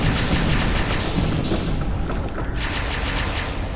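Mech robot rockets firing in Vox Machinae, a loud rushing blast with heavy rumbling booms that surge and ebb across the clip, no voices.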